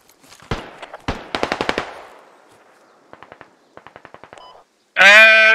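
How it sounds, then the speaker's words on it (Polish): Automatic gunfire in the military shooter game Squad crackles in sharp bursts, a few single shots then rapid rattling strings, some close and some fainter, before a sudden loud tonal blare cuts in at the end. "Strzały z zachodu."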